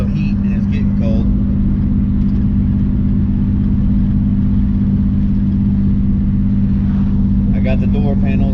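A BMW E36 with a freshly fixed coolant system cruises along, its engine droning steadily and close throughout, with a constant low hum and road rumble and a voice heard faintly over it.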